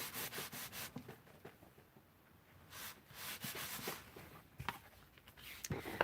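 Soft repeated rubbing strokes as something is burnished onto a handmade Mother's Day cardstock card, close and quiet, in an irregular rhythm with a calmer stretch midway.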